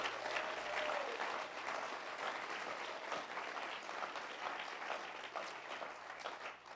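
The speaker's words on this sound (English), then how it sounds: "Give yourselves a round of applause" An audience at a motivational talk breaks into sustained applause, a dense, even wash of many hands clapping that carries steadily from start to finish with no voices on top.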